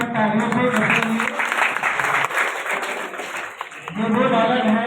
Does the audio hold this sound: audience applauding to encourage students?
yes